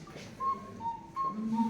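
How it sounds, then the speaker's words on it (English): Tiny, thin whistles of a small mechanical cuckoo clock play short steady tones with brief pauses, quiet and close, with no talking. "that's the sound of very small whistles"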